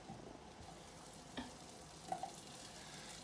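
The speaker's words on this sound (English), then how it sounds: "we're gonna saute the beef" Beef sautéing in butter in a pan gives a quiet, steady sizzle, with a couple of soft utensil clicks and scrapes partway through and no one talking.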